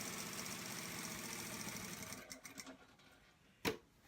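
A sewing machine stitches a boy's shirt in a steady, fast mechanical run, then stops, leaving a few scattered clicks and one sharp knock near the end.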